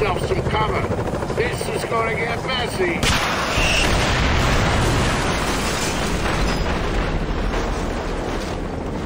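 Gunfire from a helicopter in the Splinter Cell Conviction video game, a dense, loud, continuous roar of rotor noise and rapid shots that thickens partway through and never lets up.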